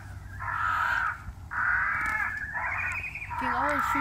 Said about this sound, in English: we got crows like crazy.